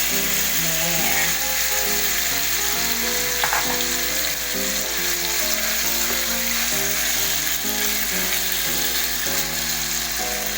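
Beef strips fry in a hot pan for Filipino beef salpicao, a dense, steady sizzle that runs throughout, with scattered clicks and scrapes of stirring over it.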